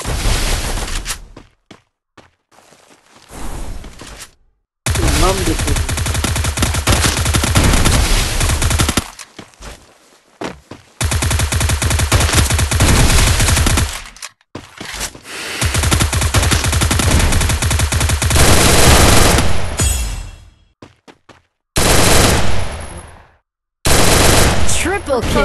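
Rapid automatic gunfire from the Free Fire mobile shooter game comes in loud, dense bursts separated by short silent gaps, with occasional voice underneath.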